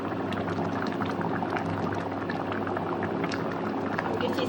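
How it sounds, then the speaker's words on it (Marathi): A Goan silver fish curry bubbles steadily in a pot on the stove, a dense, continuous simmering hiss and gurgle heard close up. "सामकें शिजता म्हाजें हुमण"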